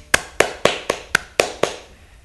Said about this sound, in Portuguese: Bater palmas.